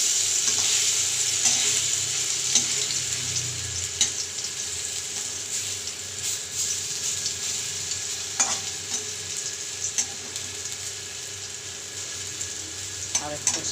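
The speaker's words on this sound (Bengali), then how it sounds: "আর একটা সাইড আমি লাল করে ভেজে নেব।" Cauliflower pakora fritters frying in hot oil in a pan, a steady close sizzle that runs throughout, with occasional soft clicks as the pieces are stirred and turned.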